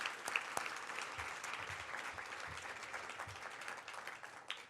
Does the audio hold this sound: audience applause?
yes